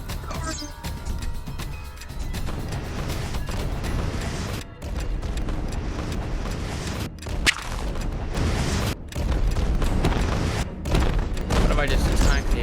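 Repeated booming explosions and bursts of gunfire in a video game rumble continuously over several seconds, loud and dense, with sharp cracks cutting through the roar.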